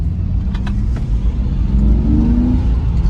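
A Nissan 350Z engine revs loudly and close, a deep continuous rumble that rises in pitch as the throttle opens, with no talking over it.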